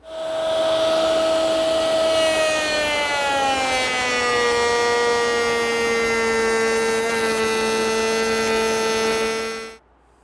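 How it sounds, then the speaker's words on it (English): Router table cutting a cove and roundover profile in wood, a loud sustained high-pitched motor whine with a slowly dropping pitch as the bit bites into the material, stopping abruptly at the end. "I need to cut a profile that has a cove and then a roundover. I'll do that at the router table."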